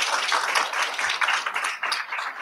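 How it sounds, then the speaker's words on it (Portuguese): An audience at a panel discussion on customer reputation and trust metrics claps together, a dense, steady burst of applause that fills the short moment without talk. "Uma salva de palmas."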